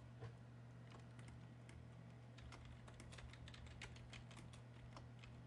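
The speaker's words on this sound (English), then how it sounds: "And I'm going to type" Quiet typing on a computer keyboard, a run of light, fairly quick key taps over a steady low hum, with no voices.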